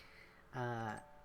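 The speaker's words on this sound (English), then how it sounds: "You can always hear that bell on this this school route." A school bell chimes once along a school route in the dating-sim game Tokimeki Memorial Girl's Side 4, a quiet, clear tone of about half a second over faint background ambience.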